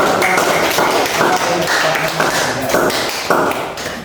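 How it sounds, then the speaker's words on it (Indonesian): An audience applauds during a classroom group presentation, with dense, loud clapping that runs through the whole span without pause. "Kita sekali lagi memberikan aplaus."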